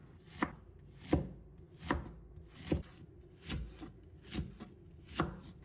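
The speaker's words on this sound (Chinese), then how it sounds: "准备小半个洋葱，再把它切成细丝。" A knife cuts half an onion into thin strips on a board, seven evenly spaced, crisp chops close up against a quiet background.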